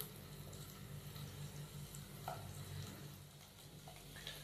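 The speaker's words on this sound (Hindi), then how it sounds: "अदरक और लहसुन के पेस्ट को हम 1 मिनट के लिए फ्राई कर लेंगे।" Ginger and garlic paste fries in hot oil for a short time, giving a soft, steady sizzle with light stirring scrapes, quiet and close, with no voices.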